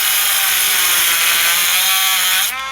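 Dremel rotary tool cutting steadily with a loud, continuous high-pitched whine and grinding rasp, abruptly dropping away near the end as the tool cuts out.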